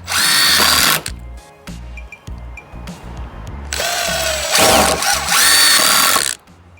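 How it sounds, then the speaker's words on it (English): A power drill drives screws into deck boards during a DIY deck build, with loud whirring bursts of a second or more, separated by short pauses and brief lower-pitched revs. "Putting 3 screws in here."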